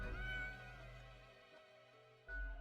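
A cat in the video game Death and Taxes gives a drawn-out, wavering meow near the start, then a short second call near the end, quiet and alone with no talk.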